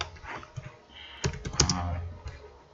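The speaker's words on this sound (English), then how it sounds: "I am typing my name," Someone types on a computer keyboard, entering a name into an online form: irregular bursts of close, crisp key clicks with short pauses between groups, quiet room, no talking.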